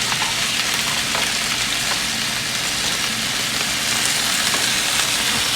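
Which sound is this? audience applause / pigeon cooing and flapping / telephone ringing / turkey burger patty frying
turkey burger patty frying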